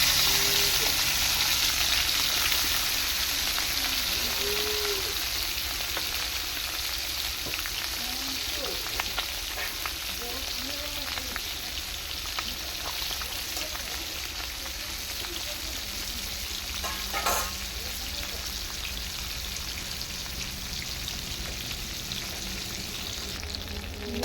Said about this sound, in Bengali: তেল দিয়ে মাছ ভাজবো